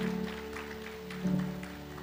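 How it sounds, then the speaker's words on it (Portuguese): A church congregation claps during a sermon, a moderate wash of many hands with sustained tones from a keyboard or organ underneath and a louder swell near the middle. "Dê um aplauso bem forte, Senhor, por essa cura maravilhosa."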